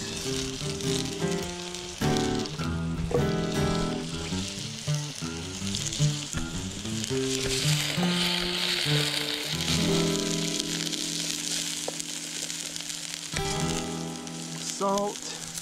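Potatoes and onions fry in a 10-inch Firebox fry pan over a campfire setup, giving a steady sizzle throughout, layered under prominent tonal music with clear harmonic lines.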